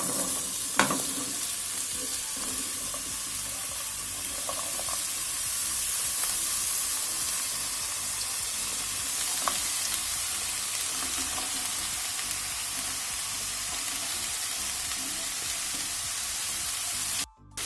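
Carrot and pumpkin sauté in a little oil in a frying pan, with a steady hiss and sizzle and occasional scrapes and taps as they are stirred, close and continuous before cutting off abruptly.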